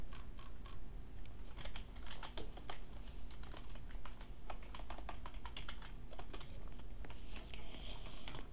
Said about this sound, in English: I'm clicking. I'm drag clicking.